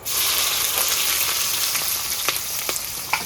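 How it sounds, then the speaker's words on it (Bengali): Onion frying in a pan gives a dense, steady close-up sizzle, with a few sharp spatula taps and scrapes near the end and no talking. "পেঁয়াজটা আমার ভাজা হয়ে গেছে প্রায়"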